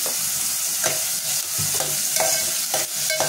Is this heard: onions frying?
yes